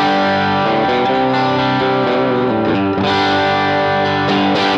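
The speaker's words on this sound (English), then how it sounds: "This is the raw, unprocessed sound of my Blue Guitar Amp 1" Electric guitar played through a Blue Guitar Amp 1 with no pedals or effects, ringing sustained chords with a slightly crunchy, driven tone, changing chords every second or so, loud and alone.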